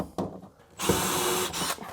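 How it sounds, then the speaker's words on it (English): A power drill bores a screw pilot hole into a wooden inset cabinet door at the hinge. There is a brief whir, a pause, then a loud sustained drilling run that dips and picks up again near the end. "I'm gonna go ahead and drill this last one out and put a whole screw in it."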